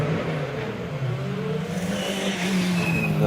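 A Peugeot 205 T16 rally car launches from the line at a night hillclimb, its engine roaring loudly and climbing in pitch as it pulls away, with tyre noise amid the blare.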